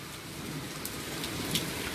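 Steady rain pouring down on a stormy night, a dense continuous patter with a few louder drops standing out, no voices.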